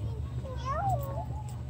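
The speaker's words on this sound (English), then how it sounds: "Look at him meow meow" Tiny kittens outdoors downtown in Lake City, Kentucky give a few thin, rising and falling meows close by over a steady low background hum.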